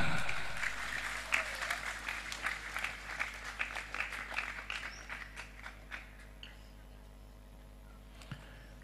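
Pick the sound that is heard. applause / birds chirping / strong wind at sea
applause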